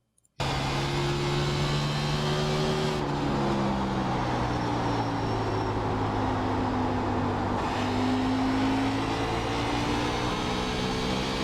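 An iRacing race car lapping Richmond, the engine bursting in loudly and then droning steadily with rising and falling pitch through shifts and corners, close and continuous with no voices.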